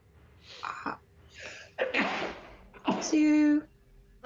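A single sharp, loud sneeze bursts out among scattered voices, with breathy vocal sounds and a short sustained voiced tone following it.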